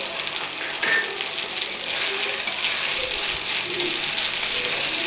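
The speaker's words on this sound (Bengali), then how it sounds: "আদা রসুন দিয়ে দিলাম, নাড়তে থাকবো" Ginger and garlic sizzle steadily in a hot pan while being stirred, a continuous bright frying hiss with small scraping touches throughout.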